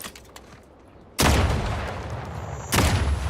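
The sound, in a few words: gunfire from a gun in the video game The Outer Worlds 2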